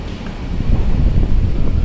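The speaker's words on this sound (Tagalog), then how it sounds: "Lakas ang hangin dito." Steady, strong wind buffets the microphone with a low, rumbling roar that swells slightly over the brief stretch.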